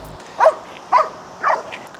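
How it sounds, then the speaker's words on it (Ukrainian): A dog gives three short, evenly spaced barks at moderate distance against a quiet background hum. "А ще в нас є дуже милий друг пес, який не допомагає нам знімати, а трошечки заважає."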